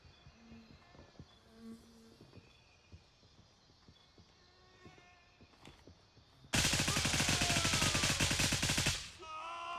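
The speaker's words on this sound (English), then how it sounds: "See? Mag dump." Gray Zone Warfare video game gunfire: after scattered quiet clicks and footsteps, a rifle empties its full magazine in one loud, rapid automatic burst lasting a few seconds, then cuts off.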